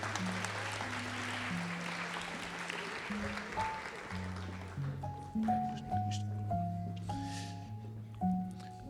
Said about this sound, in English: one more applause as they get ready to exit the stage